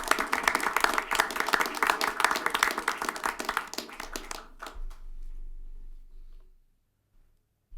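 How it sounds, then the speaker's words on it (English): A city council chamber audience gives a round of applause, brisk clapping from a modest crowd for about five seconds before it thins out and fades to near silence. "A round of applause for these guys."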